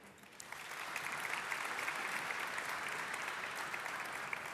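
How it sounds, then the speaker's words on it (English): A crowd at a choir concert applauds the conductor with steady, even clapping that swells quickly and holds at a constant level, heard alone without voices. "And a round of applause to their very able conductor, Mr. Bonnie Pereko."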